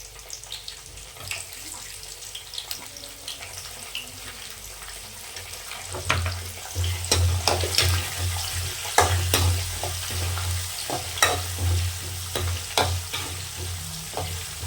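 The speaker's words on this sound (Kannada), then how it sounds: "ಎಣ್ಣೆಲಿ ಚೆನ್ನಾಗಿ ಫ್ರೈ ಆಗಬೇಕು ಮೆಣಸಿನ್ಕಾಯಿ." Chopped green chillies frying in hot oil, a steady sizzle growing louder about halfway through with scraping and stirring knocks in the pan, close and alone with no voices.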